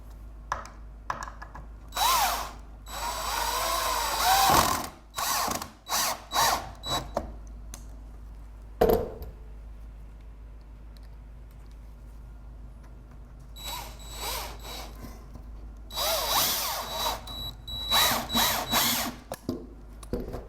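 A power drill drives screws into pallet wood for a smokehouse build, with several bursts of whirring revving on and off, loud and close, separated by brief pauses and ratcheting clicks.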